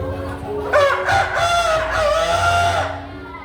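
A single rooster crows a long, drawn-out call at dawn, loud and near, over a low background hum.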